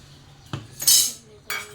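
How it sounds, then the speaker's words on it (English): A fork clinking and scraping in a bowl as garlic bread powder is mixed into a butter and ghee mixture, with a few short metallic taps and one brighter scrape, close and fairly quiet. "you are mixing it. So why you are using fork?"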